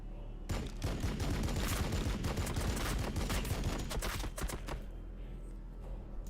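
Massed gunfire from units shooting in Warhammer 40,000: Battlesector, a dense, rapid volley of cracking shots that rattles for several seconds and then thins out into a few scattered bursts.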